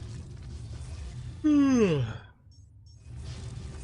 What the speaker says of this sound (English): Oh, those blasted yawns.